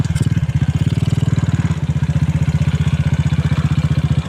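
A motorcycle with a freshly tuned N-Pro carburetor runs while being ridden, its engine throbbing in a fast, even pulse that holds steady and close throughout, with a brief dip in intensity partway through.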